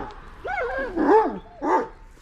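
Shepherd dogs on a Turkish livestock-herding trail let out close whining yelps, three short rising-and-falling whimpers in quick succession with no talk over them.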